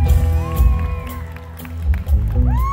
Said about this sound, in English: Can y'all give him a round of applause, please?